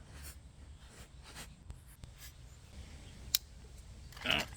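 A Swiss Army knife shaving and beveling the edges of a piece of wood, a few faint scraping strokes spaced apart in a quiet setting, with a sharp click near the end.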